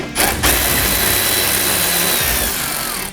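A power tool driving out a size 10 bolt from a Bronco taillight assembly, one loud continuous whirring burst lasting about three seconds, close up and alone.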